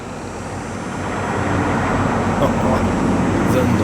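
Farm vehicle engine in a farming simulator game starting up and settling into a rumbling idle, swelling in loudness over the first seconds, then a steady low drone.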